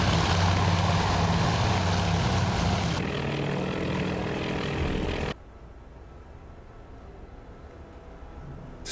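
Propeller aircraft engines of a combat air patrol drone steadily in a naval strategy video game, a loud continuous roar that drops suddenly to a quieter hum partway through, with no talk.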